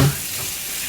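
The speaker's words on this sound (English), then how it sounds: "So let this fry for a little while." Onions and masala frying in a pan for Anglo-Indian chicken vindaloo, a steady close sizzle with a brief low thump at the start, no voices.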